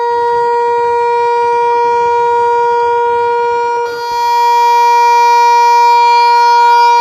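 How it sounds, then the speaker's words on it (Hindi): Warning siren in Rawalpindi, Pakistan, sounded after heavy monsoon rain caused flooding: a loud, sustained steady wail with a slight shift in pitch partway through, continuous and close. "तेज बारिश के बाद पानी जमा हो जाने से सायरन बजाकर आवाम को खबरदार किया गया"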